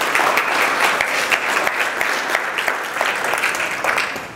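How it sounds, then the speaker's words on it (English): An audience at a book and publishing talk claps together, a steady crowded patter of many hands that carries evenly for a few seconds before easing slightly at the end. "yes, you guys can clap"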